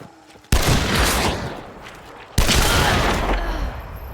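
Two heavy slug shots fired in Hunt: Showdown, each a sharp loud blast with a long rumbling decay, spaced about two seconds apart, no talk.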